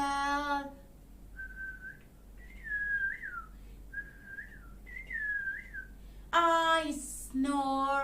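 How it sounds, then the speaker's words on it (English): A person whistles a series of short, rising and falling melodic phrases with brief pauses between them, close and clear, followed by a short voiced vocal sound at the end. "I whistle, I whistle."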